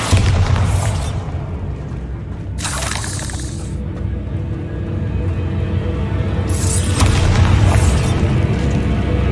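Bombarda blasting spell going off in Hogwarts Legacy, heavy booming explosions with crackling bursts near the start, around three seconds and again near seven seconds, over a loud continuous rumble of game noise.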